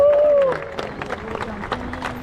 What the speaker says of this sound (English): There was some nervousness and some anxiety in those claps